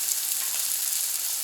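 French toast sizzles on a Camp Chef FTG600 flat top grill in a brief, steady, fairly quiet hiss with no voices.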